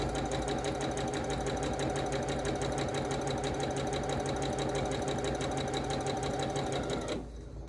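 A sewing machine runs steadily, stitching quilt pieces with right sides together at a quarter-inch seam, its fast, even whirring and clatter continuing for several seconds before it stops abruptly near the end.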